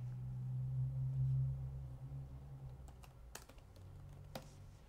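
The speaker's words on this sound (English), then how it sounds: "I can type whatever I want to type." Steady clicking of keys on a computer keyboard, with a brief low hum at the start, close and moderately quiet, with no talking.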